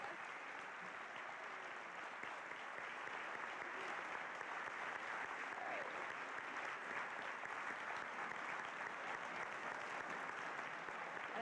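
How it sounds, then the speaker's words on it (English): An audience applauds steadily to thank veterans and active service personnel at a school war and remembrance event, a dense, sustained wash of clapping from a large crowd with no break, heard at moderate distance. "Please join us in a big round of applause to thank the veterans and active personnel here with us today."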